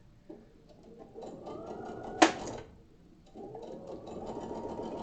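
A domestic sewing machine runs in two bursts of stitching, separated by a sharp clack or thump in the middle, then whirs on again at a moderate, close level with no talking.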